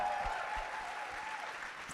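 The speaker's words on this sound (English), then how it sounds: "join me in just giving great kudos and applause" Audience applause for two collegiate athletes at a Stand With Women event in Pennsylvania, a steady wash of clapping from a crowd that holds even throughout, with no voices on top.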